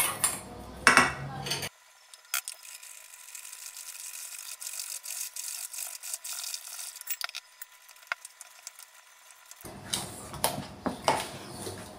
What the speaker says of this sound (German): Und mit einem Schneebesen rühre ich dann daraus jetzt erst einmal eine homogene